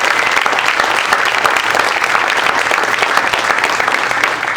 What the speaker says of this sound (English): a big round of applause for Shane and Ann